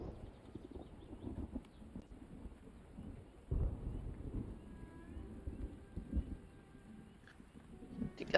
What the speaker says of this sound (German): Oh, natürlich gewittert es schon wieder.